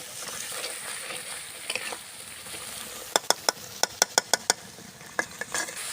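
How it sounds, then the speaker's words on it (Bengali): Spices for chicken curry fry in oil with a constant soft sizzle, while a spoon scrapes and taps the pan in a quick run of sharp clicks, close and moderately loud. "এখন এগুলোকে ভালো করে তেলের সাথে ভেজে নিব ভালো করে কষিয়ে"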